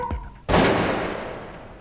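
A single sharp gunshot rings out in the surgical video game Trauma Center: New Blood, a loud crack with a long decaying tail, preceded by a short faint sound.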